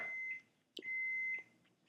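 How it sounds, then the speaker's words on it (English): Two high, steady electronic beeps, the first about a third of a second and the second longer, close by with a brief click between them. "Hear that beeping?"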